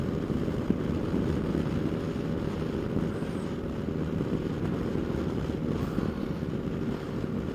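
A 2020 Yamaha Tracer 900 motorcycle on a test ride gives a steady, close engine drone buried under heavy, continuous wind buffeting, with no speech.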